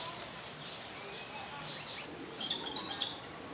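A bird perched up high gives three short, sharp calls in quick succession, fairly faint and distant over quiet background noise.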